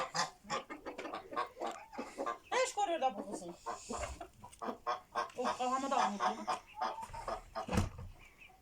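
Chickens cluck and squawk repeatedly close by, while people talk over the birds throughout.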